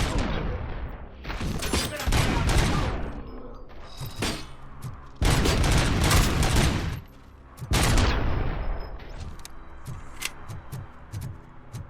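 Gunfire from the video game RoboCop: Rogue City, loud repeated bursts of shots in several long clusters with brief quieter gaps, mixed with game effects.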